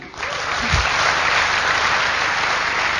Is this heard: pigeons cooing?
no